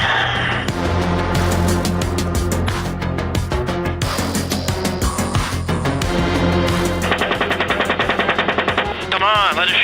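Rapid bursts of automatic gunfire shooting through a vehicle windshield, loud, close and sustained with dense cracking shots that run nearly unbroken, then a fast rattling volley near the end.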